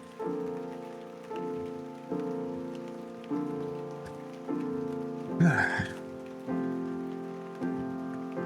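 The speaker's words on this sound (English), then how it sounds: "it's absolutely started chucking it down" Heavy rain pours down steadily on a roadside stop during a motorcycle trip, a dense continuous hiss with a few brief louder bursts and no talking.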